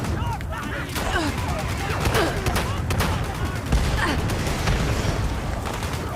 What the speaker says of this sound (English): Someone's throwing grenades up at me.